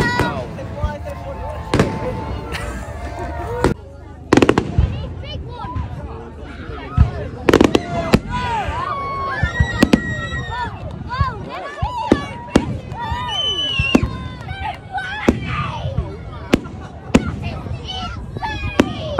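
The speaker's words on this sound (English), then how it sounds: "I'm off to some fireworks now." Fireworks going off outdoors at a public display, with sharp bangs and crackles scattered irregularly over a steady background of crowd noise and voices.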